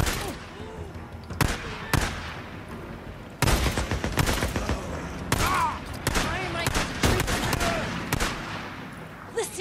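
Gunfire in the video game Days Gone, with rapid bursts and single sharp shots cracking out repeatedly, loud and near, mixed with shouted voices.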